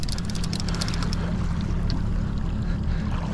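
A fishing boat engine runs steadily and close by, a continuous low droning hum with wind and water noise over it throughout.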